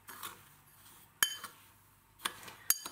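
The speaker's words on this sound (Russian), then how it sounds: "И хорошо перемешиваем." A spoon stirs lavender flowers into sugar in a bowl, giving three sharp, separate metallic clinks against quiet, close-up background hiss, with no talking.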